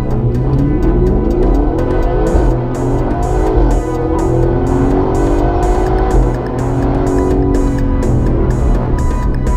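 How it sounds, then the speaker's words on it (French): Audi's Roby autonomous race car pulls away loud and close, its engine revving through rising and falling pitch sweeps as it accelerates, with no talking. "on va partir à bord de Roby, la voiture autonome de course by Audi"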